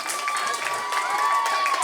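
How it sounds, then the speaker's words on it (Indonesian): An audience at a children's Easter event in a parish claps and cheers, a lively crowd of applause with shouts mixed in, under a steady tone and some voices. "Kita beri tepuk tangan yang meriah"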